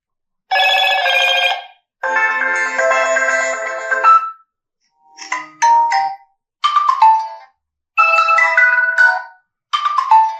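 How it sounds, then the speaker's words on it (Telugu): A Moto G54 5G smartphone plays several different built-in ringtones one after another, loud and close, each a short melodic chiming phrase separated by brief silent gaps. "మోటో రింగ్ టోన్స్ ఏమో ఉన్నాయి చూద్దాం."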